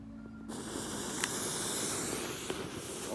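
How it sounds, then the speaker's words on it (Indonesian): A green Corsair XXL color smoke firework hisses steadily and loudly as it burns outdoors. The hiss starts abruptly after a brief quiet moment and continues without a break to the end, with a couple of faint clicks. "Kita nyalakan color smoke Corsair XXL bajak laut warna hijau."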